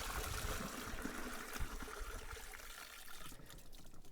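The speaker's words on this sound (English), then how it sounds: "A little bit of water back in to mix with the chemical stuff." Water rushes and trickles through a portable toilet cassette being rinsed, a continuous faint gurgling flow with small splashes and no talk.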